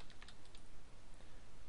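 Rapid clicking of code being typed on a computer keyboard, a steady stream of close keystrokes with no speech over the short stretch.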